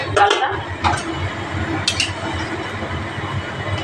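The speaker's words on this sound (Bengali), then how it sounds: "এবার ঢাকাটা খুলি, দেখছি কি অবস্থায় আছে" A metal lid lifted off a pot of cooking gourd dal gives a few quick clinks and taps at the start, followed by low kitchen ambience.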